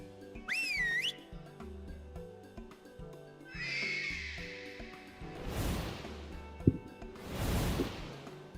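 In Final Fantasy XIV, a short rising whistle sounds to summon a mount, followed by a neigh-like call and two whooshing swells over soft background game music.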